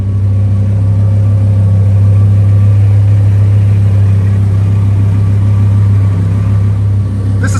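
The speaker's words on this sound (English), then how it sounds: "Listen to this idle too back here." A 2015 Lamborghini Huracan 610-4 with its V10 settles into a steady idle, a loud, constant low rumble heard close up from behind the car with no talking.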